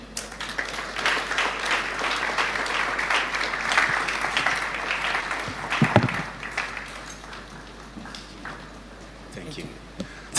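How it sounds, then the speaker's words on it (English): A conference audience claps at length, a dense wash of many hands that stays strong for several seconds, then thins and tapers toward the end, with voices faintly underneath. "Please, a round of applause for her."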